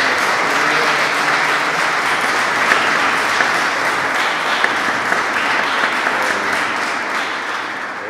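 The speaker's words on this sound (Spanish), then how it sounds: "Un aplauso." An audience at a flamenco guitar gathering claps loudly for the guitarist in a sustained, dense wash of applause that holds steady throughout and tapers slightly at the end, with no voices over it.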